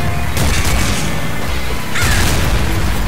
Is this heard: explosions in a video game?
yes